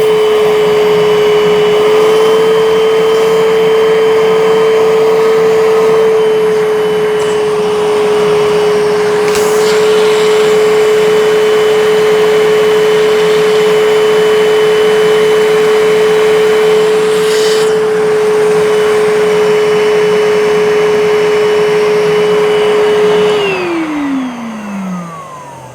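A Bissell SpotBot handsfree carpet cleaner runs with its hose tool dispensing solution, giving a loud, steady motor whine with a constant pitch for over twenty seconds before it winds down at the end.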